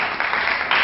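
Guests at a wedding ceremony clap in a short, dense burst of applause that swells slightly at the end and lasts under a second.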